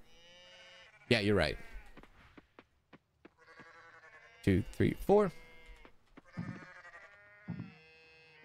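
Farm sheep bleat loudly in the video game Coral Island, two long wavering calls with shorter bleats after, while a person talks quietly between them.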